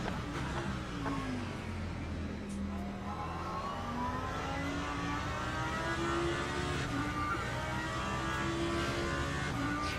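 A GT3 race car engine in the Le Mans Ultimate racing game drones loudly and steadily throughout, its pitch rising and falling through gear changes, with no talking.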